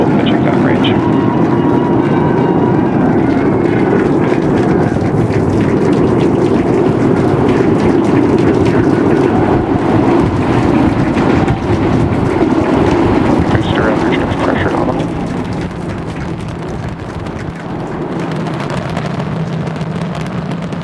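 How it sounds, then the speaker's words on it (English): SpaceX Starship Flight 8 launch, with 33 Raptor engines producing a continuous, heavy, crackling roar that eases slightly toward the end while a commentator talks over it. "We are seeing 33 out of 33 Raptor engines ignited."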